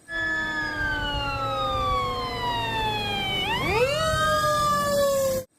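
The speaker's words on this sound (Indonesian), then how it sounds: "Mobil pemadam api." A toy fire truck siren wails in steady descending tones, then sweeps back up sharply and cuts off abruptly, loud and close with no talk.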